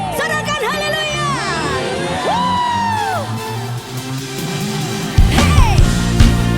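A church congregation at a Sunday worship service cheers and shouts hallelujah, with loud overlapping whoops and yells swelling into a bigger burst of crowd noise near the end.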